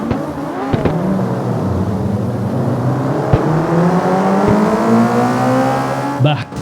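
Engine of a street racing car in CarX Street revving and climbing steadily through the gears, with tire squeal and sharp transient knocks, loud and continuous throughout with no voices.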